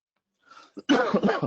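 A single close cough bursts out sharply after a brief moment of quiet, followed by a rough, throaty rasp.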